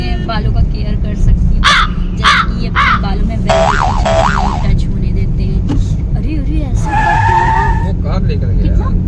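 A car speeds past on a road beside a constant low traffic rumble, while crows caw in short, sharp calls overhead.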